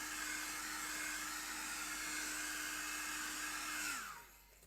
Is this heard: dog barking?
no